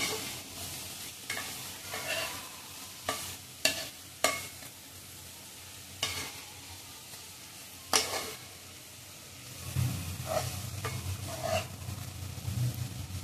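Chopped onions stir-frying for a Maharashtrian fenugreek-leaf bhaji, with a steady soft sizzle and scattered scraping stirs of a spoon against the pan, close up and without talk.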